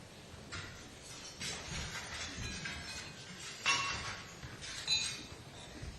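Glasses clink in a toast at a state lunch honouring Indian Prime Minister Modi, hosted by Kamala Harris: a scatter of bright chinks across a roomful of guests, with two louder clusters standing out over the busy room tone.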